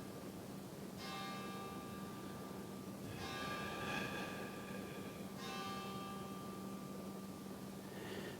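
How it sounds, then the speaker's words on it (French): Bells ring out at the close of a yoga session, three bright resonant strikes about two seconds apart, each shimmering and decaying over a steady low hum, quiet and calm with no voices. "De vous laisser accompagner du son des cloches pour vous remercier vous-même"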